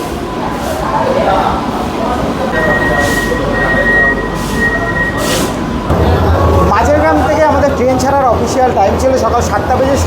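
An air-conditioned Bongaon–Sealdah local train rumbles along steadily with rattling and a brief high squeal, while people talk over the noise throughout.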